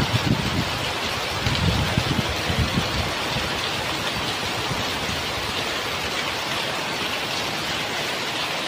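Heavy rain hisses steadily as a dense wash of noise over a village, with gusty wind rumbling low at the start before easing into a constant downpour.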